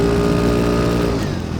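A Kymco G7 scooter accelerates in a straight line on a race track, its engine giving a loud, close, continuous rising drone with a slight drop-off at the end.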